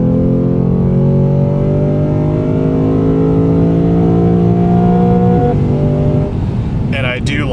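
A Lexus GS F 10th Anniversary Limited V8 revs hard on downshifts, loud rising engine harmonics that break off, followed by a brief burst of higher-pitched tones near the end.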